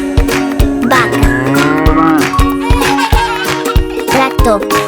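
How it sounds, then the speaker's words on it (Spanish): A cow moos in a children's learning song, the lowing standing out over bright, bouncy music with a steady beat that continues throughout. "Vaca."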